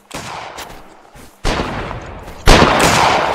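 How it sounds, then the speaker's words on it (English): Rifle volleys in Mount & Blade during an Anglo-Boer War battle, a dense crackle of shots that swells in two sudden steps, growing louder and more sustained toward the end, with no clear speech. "And fire at will."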